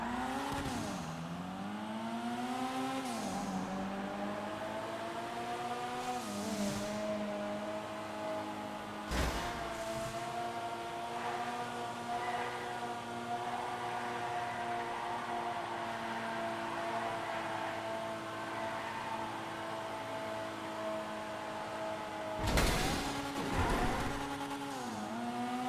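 Engine of a Dinka Jester Classic car in a video game, rising and falling through revs with gear-shift dips, steady and close, with a couple of brief sharp bursts and no talking.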